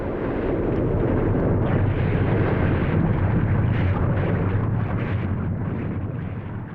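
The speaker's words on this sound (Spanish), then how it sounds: "Una explosión tan potente que provocó un cráter de 83 kilómetros cuadrados en el centro de la isla." A massive volcanic eruption explodes on an island, sustained as a loud, dense, rumbling roar that holds steady for several seconds before easing slightly at the end.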